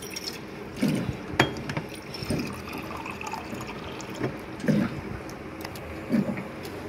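Water pours and runs in a real-life Minecraft-style indoor scene, with splashy bursts and drips that rise and fall several times over a steady trickle. No one speaks.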